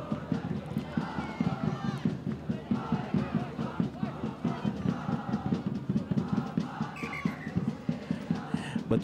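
Supporters at an under-14 rugby cup final, SDAR versus SEMASHUR, chanting and cheering in a rhythmic crowd roar with regular pulsing beats, continuous and loud.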